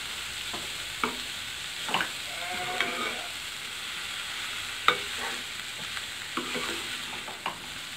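Masala is stirred into cabbage egg curry in a pan: intermittent spoon scrapes and light knocks sound over a soft, steady sizzle, close by but fairly quiet.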